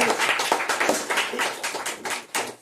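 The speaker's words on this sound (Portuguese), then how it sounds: "Uma salva de palmas para Jesus." A small church congregation claps in a quick, steady rhythm, sharp and fairly close, roughly a dozen beats without pause.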